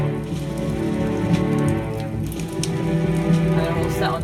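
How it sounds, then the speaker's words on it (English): Randomised torch fire loops in a Unity video game, set with 3D positioning in Wwise, crackle and hiss steadily like dense rain over a continuous sustained musical background. "We still have our randomised torches playing."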